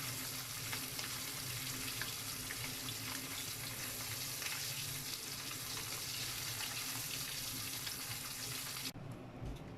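Mayamaya fish miso broth boiling in a covered pot, making a steady, close bubbling hiss that runs without a break for about nine seconds before dropping away abruptly. No voices are heard.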